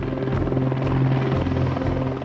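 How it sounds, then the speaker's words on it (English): A police helicopter flies overhead during a motorway pursuit of a suspected armed gang, its rotor chop a loud, steady low thumping that fills the whole moment with no talk. "The helicopter's up at the moment"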